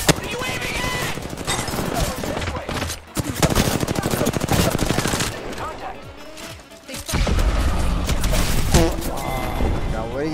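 Gunfire in the video game Apex Legends: dense, rapid automatic bursts and heavy impacts fill the clip almost continuously with a short lull near the middle, loud and close, with a player talking intermittently underneath.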